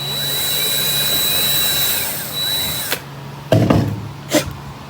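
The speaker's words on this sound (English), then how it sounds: "We're going to be using an 1/8 inch drill bit. We're going to go through the keder track and through the slider." A power drill with a 1/8 inch bit bores through a keder track and slider, whining steadily and loudly for about three seconds. It then stops, followed by a few short clattering knocks and scrapes.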